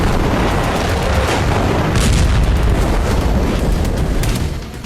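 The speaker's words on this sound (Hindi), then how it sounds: "थमने नहीं वाली है ये गोलाबारी" Artillery shelling rumbles as a dense, loud, continuous barrage of booms and blasts, with overlapping heavy thuds and crackling bursts filling the whole stretch.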